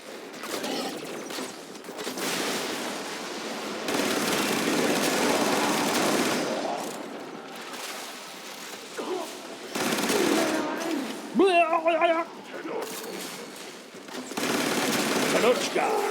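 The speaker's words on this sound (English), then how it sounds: "My rifle sounds much cooler." Rifle gunfire in a video game, rapid bursts of shots in several loud stretches separated by quieter gaps, with a voice talking in between.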